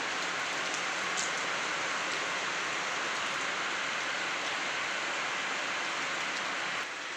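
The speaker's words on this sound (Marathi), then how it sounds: "पाऊस लय आहे पाऊस लय पडलाय" Heavy rain pours down in a dense, steady hiss, with occasional louder drops standing out against the constant downpour.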